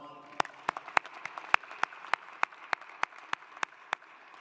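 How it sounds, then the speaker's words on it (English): At a university fall commencement, a regular series of sharp individual claps rings out in an echoing hall, steady and evenly spaced against a quiet background. "Please celebrate those folks with a round of applause."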